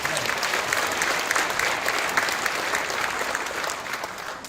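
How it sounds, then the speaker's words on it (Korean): A church congregation at an Easter union worship service in Dongtan applauds the pastor, a full, continuous patter of many hands clapping at once, steady and fairly loud, nearby and free of speech. "본회를 위해서 제일 많이 바쁘게 움직이시고 힘쓰는 목사님 박수를 한번 다시 합니다."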